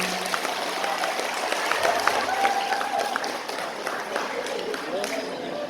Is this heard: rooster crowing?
no